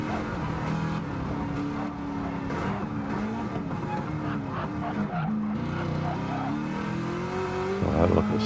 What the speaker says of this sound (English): Very high revving.